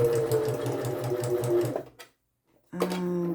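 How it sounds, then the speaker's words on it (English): An electric sewing machine stitches around the edge of a paper book page in a fast, steady buzzing run. It stops briefly into near silence, then starts up again loudly. "now I'm going to sew around the outer edge"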